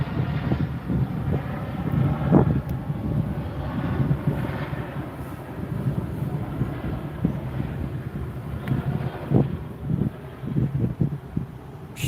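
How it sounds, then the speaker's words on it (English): A Chinook helicopter flies in during a fishing trip, heard as a low, fluctuating rumble mixed with gusty wind buffeting the microphone, with no voices. "Chinook coming in with a Chinook."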